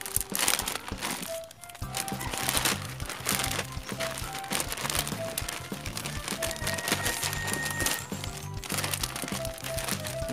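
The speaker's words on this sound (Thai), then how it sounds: "ผมใช้เป็นถุงพลาสติกใส" Clear plastic bag crinkling and rustling steadily around a potted Philodendron Painted Lady cutting, close and loud, with busy crackling texture throughout and no talk.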